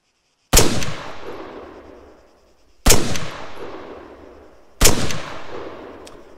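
Three single QBZ-95 assault rifle shots in ArmA 3, each a loud, sharp crack followed by a long rolling echo that fades before the next shot, spaced about two seconds apart.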